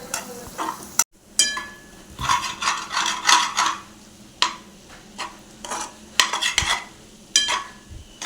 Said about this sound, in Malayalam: നാല് മുട്ട പൊട്ടിച്ചൊട്ട് പിന്നെ നമ്മൾ ഇതിനെ ചറവറ ചറവറ ചിക്കി എടുക്കണം കേട്ടോ